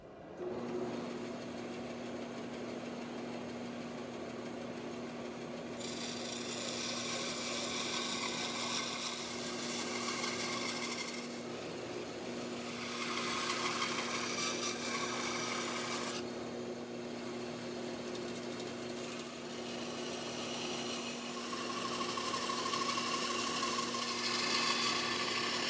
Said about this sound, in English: I'm just going to use the bandsaw and trim off some of the excess on these pieces